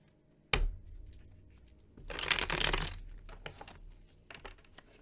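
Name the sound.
shuffling cards before drawing one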